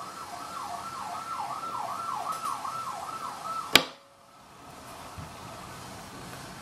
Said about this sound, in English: so we always have the sirens